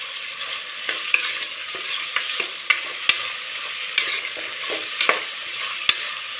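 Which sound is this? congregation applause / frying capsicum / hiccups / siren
frying capsicum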